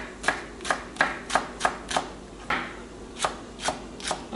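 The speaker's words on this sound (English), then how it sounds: "I'm going to cut." A knife chopping green onions on a cutting board at home, about ten crisp, evenly spaced chops with a brief pause partway through, close and clear with no speech.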